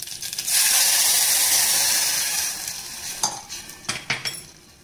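Loud hiss of asafoetida, cumin and mustard seeds sizzling in hot ghee, fading gradually, followed by a few clinks of a spoon against the pan.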